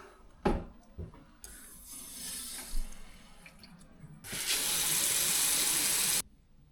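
Water flows through the filling valve of an overheating Worcester 42 CDI combi boiler: a couple of knocks, then a soft trickle and a loud, steady rushing hiss that cuts off abruptly.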